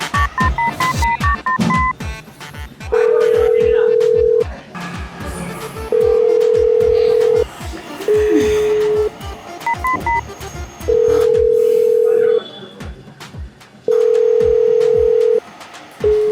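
A telephone is dialed with a quick run of keypad tones, then repeated long ringback tones pulse at steady intervals and go unanswered, loud and close, with brief bits of background voice between.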